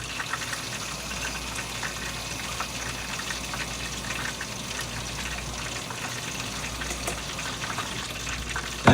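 Half a cup of water poured from a measuring cup into a sweet and sour sauce mix of cornstarch and white vinegar, a steady, even stream of liquid lasting several seconds with no voices.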